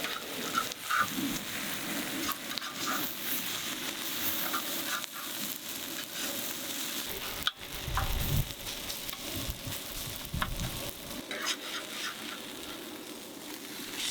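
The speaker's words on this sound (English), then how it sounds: "So we're gonna slowly add kimchi to the middle." Kimchi frying with rice in a pan on a camp stove during an off-road camping trip, a continuous crackling sizzle with stirring scrapes, close and fairly loud, with one sharp knock midway.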